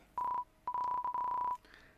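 Phone dialing in the video game Undertale: a short run of crisp, loud electronic keypad tones, one brief beep followed by a longer sustained series of tones, then quiet, with no voices.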